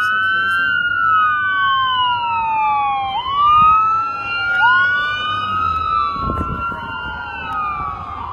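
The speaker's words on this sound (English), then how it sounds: "Just been ambulances nonstop." Several ambulance sirens wail and sweep up and down in a city street, overlapping and continuous, loud and close with traffic rumble beneath.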